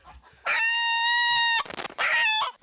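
Chickens in a cramped coop squawk and cry loudly while fleeing, two long shrill calls separated by brief flapping scuffles, close by.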